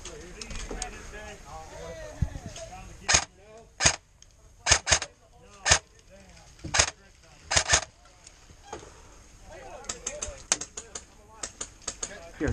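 Enemy gunfire in a video game crackles in sharp, loud bursts of single shots and short volleys spread across the scene, with softer clicks and game sounds between and voices talking over parts of it.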